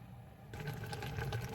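Potatoes boiling in water in a covered pot, heard as a brief burst of soft bubbling and simmering that starts suddenly and continues steadily, faint and without talk.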